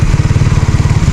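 Rhea's motorcycle engine runs close by with a steady, rapid, throbbing pulse, heard loud and alone, on a ride to Pandin Lake in San Pablo, Laguna, after rain.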